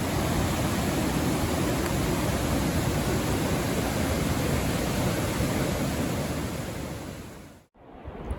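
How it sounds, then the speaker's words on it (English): A river flows steadily beside a campsite at night in the Big Sur canyon, a broad, continuous rushing wash heard close and alone, breaking off abruptly near the end. "go to sleep with the sound of the river behind me"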